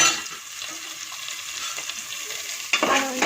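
Tempering of spices browning in a spoonful of ghee in a pan, a close steady hiss and sizzle with a few soft stirring scrapes, flaring louder near the end, no talking.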